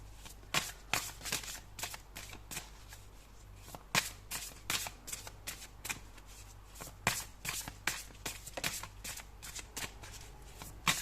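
Tarot cards shuffled by hand in a steady run of crisp riffling bursts, close and clear, continuing without a break and with no voices.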